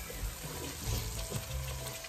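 Masala of onions and spices frying over low heat in a pan for paya curry soup, a steady close sizzle with faint crackle running unbroken throughout.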